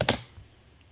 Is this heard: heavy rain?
no